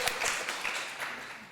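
An audience at an informal talk gathering claps in a short, dense burst, the applause close and bright and carrying on without any speech over it.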